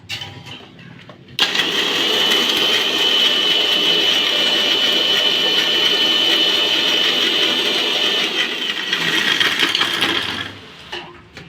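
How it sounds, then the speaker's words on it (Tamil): A kitchen mixer grinder grinding coconut switches on with an abrupt loud whir and runs steadily for about nine seconds before cutting off, with quiet background sounds before and after. "இப்போ தேங்காவை அரைச்சிக்கலாம்."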